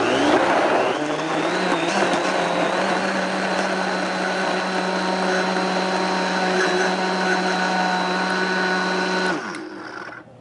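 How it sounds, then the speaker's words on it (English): A Vitamix blender on its smoothie setting purees loudly and close by, a steady high motor whir with a brief start-up rise, running continuously for about nine seconds before winding down abruptly, with no talking. "Got my Vitamix set to smoothie, and I'm just going to go ahead and puree it."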